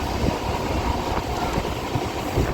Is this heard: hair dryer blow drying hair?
no